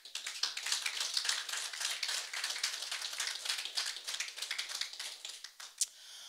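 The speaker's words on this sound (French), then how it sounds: "Encore des applaudissements." Applause from the audience at a business forum awards announcement: dense, crisp clapping spread over the whole stretch, with individual claps standing out near the front and one sharp clap near the end, no voices.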